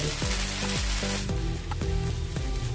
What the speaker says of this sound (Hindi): अब इसको हम पलटा देंगे। दूसरी तरफ से भी हम पकाएंगे।